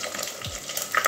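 Catla fish head frying in a wok with oil, a steady close sizzle and spatter running throughout, with a brief low clunk partway through.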